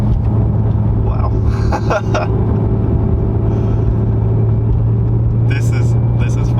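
A 2019 Acura NSX exhaust drones steadily from inside the low-slung car while driving, a constant low rumble with people talking over it.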